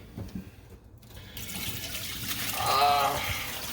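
Dark gray dirty water pours out of a carpet cleaner's tank, a splashing, gurgling flow that starts after a short pause and swells to a loud rush before easing slightly.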